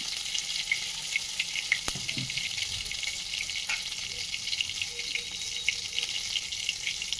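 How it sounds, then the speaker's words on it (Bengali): Mustard oil heats in a kadai with a steady, soft sizzling hiss, faint and continuous, broken by a few small clinks and pops. "এখানে কড়াইয়ের মধ্যে তেল দিলাম, সরষের তেল দিয়ে দিলাম"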